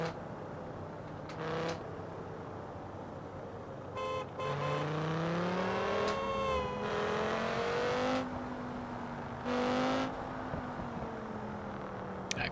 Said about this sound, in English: I quite like the sound of this car.